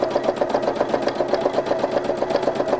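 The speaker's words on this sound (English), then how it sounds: "I'm not doing too much sewing, just going from side to side." A domestic sewing machine runs steadily through free machine embroidery on fabric bonded with Bondaweb, its rapid needle strokes forming an even, close, continuous mechanical patter with no voices.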